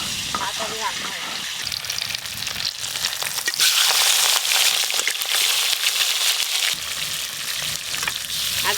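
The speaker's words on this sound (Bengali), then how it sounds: "তেল খুব ভালো করে গরম হয়ে গেছে, এবার মাছগুলো ভেজে নেবো।" Fish frying in very hot oil in a home kitchen, a dense steady sizzle with crackling bursts that swells louder midway and stays close throughout, with no talk over it.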